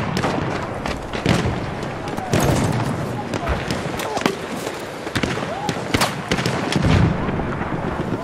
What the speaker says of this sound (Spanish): Se escuchan los disparos.